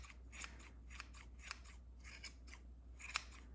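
Scissors trimming a yarn pom pom: rapid, crisp snips close up in a quick irregular rhythm, about a dozen cuts in a few seconds over a faint low hum.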